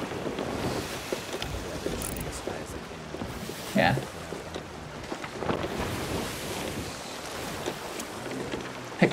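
A sailing ship at sea in the Sea of Thieves video game, with steady wind rush and water wash beneath the hull and occasional creaks and knocks. Voices talk over it throughout.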